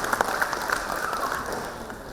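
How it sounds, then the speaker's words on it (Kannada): An audience at an award ceremony applauds, with a soft, steady patter of clapping that carries on at low level throughout. "ಜೋರಾದ ಚಪ್ಪಾಳೆ ಸಮರ್ಪಣೆ."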